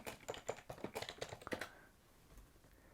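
Someone types an address on a computer keyboard, a quick close run of light plastic key clicks for about a second and a half that then stops, leaving quiet room tone.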